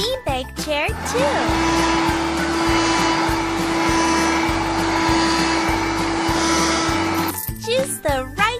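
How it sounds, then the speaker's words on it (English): Vacuum cleaner going over a beanbag chair in a children's house-cleaning video game, a continuous droning whir lasting several seconds over upbeat looping music, with bright game voices and jingles around it. "Vacuum the beanbag chair too."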